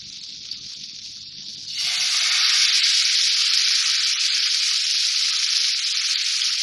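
A chicken breast hits a hot pan and bursts into a loud, continuous sizzle that holds steady after a quieter moment.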